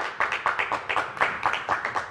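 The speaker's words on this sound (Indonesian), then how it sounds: "Tepuk tangan untuk Pak Teguh." Audience clapping on a television talk show, a rhythmic run of close, fairly loud hand claps at an even pace, without speech over it.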